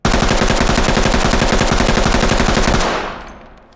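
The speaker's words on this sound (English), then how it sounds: "Now when we're doing the test along with all the other weapons of how the recoil compares by shooting at one spot and not pulling down at all." Sustained automatic gunfire from a weapon held on one spot during a recoil test in the video game Ready or Not, a rapid loud burst of shots lasting nearly three seconds before cutting off into a fading echo.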